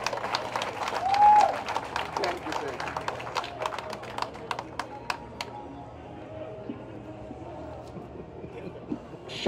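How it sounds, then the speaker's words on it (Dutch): Applause from a crowd at a commemoration ceremony, a burst of many hands clapping that fades into scattered, sparse claps, with background chatter underneath. "Nogmaals een applaus."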